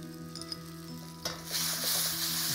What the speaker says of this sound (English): And fry that together